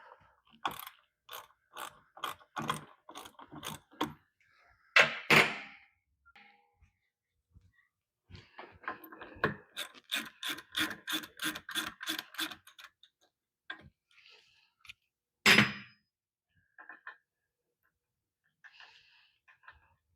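A ratchet wrench breaks loose a motorcycle fork center bolt, giving crisp rapid clicking runs in several bursts with pauses and a couple of louder clunks, close and alone in a quiet shop.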